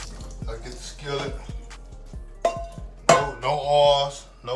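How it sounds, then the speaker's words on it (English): A skillet is handled in a home kitchen for a chicken breast recipe, giving several sharp metallic knocks and clatters close by, with some dripping water and talking between the hits. "I get the skillet."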